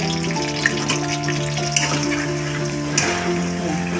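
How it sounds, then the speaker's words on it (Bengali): Onions frying lightly in a pan with a little salt, a soft steady sizzle running under a layered tonal background hum. "এবার আমি এই পেঁয়াজগুলোকে একটুখানি ভেজে নেব, হালকা হালকা করে একটুখানি ভেজে নেব।"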